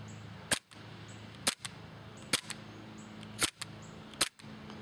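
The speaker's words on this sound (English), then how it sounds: "Now I'm just going to show you the blowback action of the handgun." A KWC Taurus PT92 airsoft gas blowback handgun fires five sharp, evenly spaced shots about one second apart, each a crisp close snap with a quick slide clack, over a quiet background hum.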